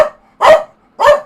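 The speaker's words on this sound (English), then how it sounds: "She just keeps barking at my door." A pet dog barks sharply at a door indoors, three loud, close barks spaced about half a second apart with silence between them.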